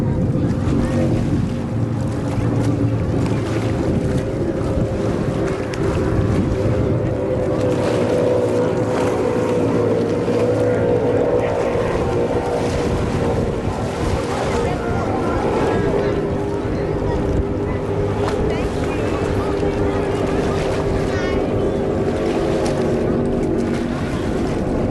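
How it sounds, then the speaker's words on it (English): Team Maritimo's racing powerboat at a powerboat race, its engine thundering loud and continuous down the main straight as a dense, roaring drone mixed with wind and water rush. "Team Maritimo, Andrew's boat, thundering down the main straight."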